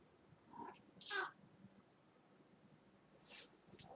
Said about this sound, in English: Yeah, that was my cat you heard.